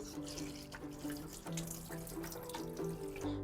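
Running tap water pours steadily over homegrown fenugreek greens as they are rinsed clean of soil, a continuous close splashing with light irregular changes in flow throughout.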